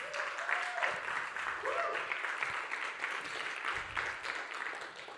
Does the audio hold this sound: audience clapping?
yes